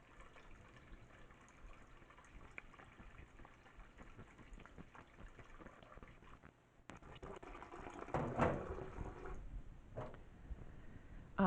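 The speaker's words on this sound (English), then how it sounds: "Now we add water to cover them." Water running into a pot of rinsed dried beans, a faint steady trickling and splashing that grows fuller and louder toward the end, alone without talk.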